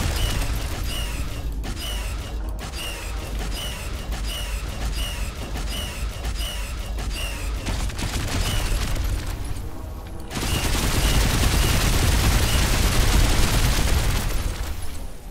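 Pulse cannon and blast mines fire in a Star Control Origins space battle: a steady run of rapid repeating shots over a mechanical rumble, then a heavier roaring barrage takes over midway and stays loud to the end.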